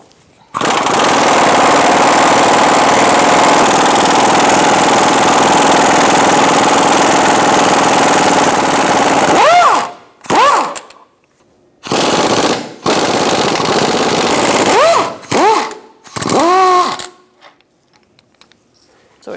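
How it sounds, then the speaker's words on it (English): A 17mm socket on an impact wrench hammers loose two bolts on a 2004-2009 Mazda 3 front lower control arm, a long loud rattling burst followed by several shorter bursts with whirring spin-downs between. "Now we're going to use a 17mm and take out these two bolts."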